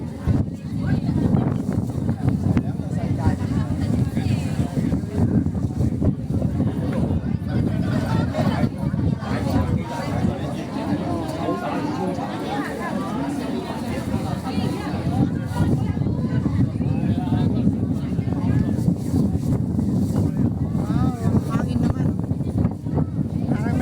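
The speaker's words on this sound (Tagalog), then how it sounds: "Ang hangin, grabe." Strong wind buffets the microphone in a constant low roar while people talk over it, outdoors at Kai Tak Sports Park.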